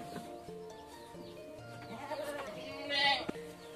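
Javanese Randu goats in a pen give short bleats, one louder call rising near the end, while someone talks calmly over the animals.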